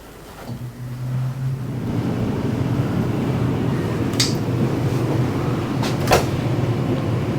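An air conditioner starts up in a 2022 Luxe toy hauler trailer, a short click and whir giving way to a steady low blowing hum, with a couple of faint knocks nearby.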